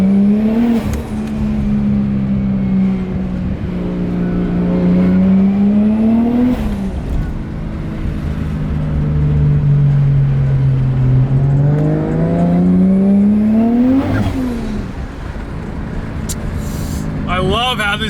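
A Toyota Chaser's 450hp 1JZ engine revs up and down repeatedly from inside the car, the pitch climbing and dropping through gear changes, loud and continuous.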